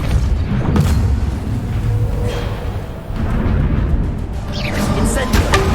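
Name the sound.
Depulso spell impact in video game Hogwarts Legacy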